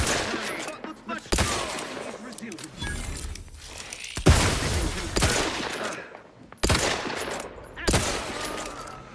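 Bursts of gunfire ring out in The Outer Worlds 2, several separate loud volleys of sharp shots spaced across the scene, with voices heard between them.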